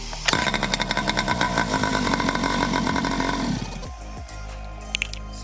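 A small GoPed scooter engine starts with a sharp pop and runs at a loud, buzzy, fast-revving drone for about three seconds. It then cuts out, leaving a low hum and a few faint clicks.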